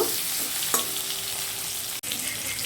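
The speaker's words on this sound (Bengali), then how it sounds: "টমেটোটা দিয়ে আবার সব কিছু একটু হালকা করে ভেজে নেব।" Potatoes, onions and tomatoes fry in a pan with a steady, close sizzle, broken by a light stirring clatter and a brief dip near the end.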